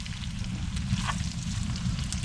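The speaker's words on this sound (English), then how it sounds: "All right, potatoes and onions are cooking up very well, starting to sizzle." Potatoes and onions sizzle while frying in a pan during sub-zero winter camping in a hot tent. A soft, steady hiss runs throughout over a low rumble.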